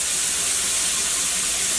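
Wild turkey nuggets frying in hot oil, a loud, dense and steady sizzle with a bright hiss that holds unbroken from start to finish, close up with no voices.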